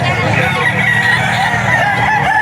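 A young gamecock stag at the Bocaue pet market crows loud and close, its call running steadily through the whole stretch amid general market noise.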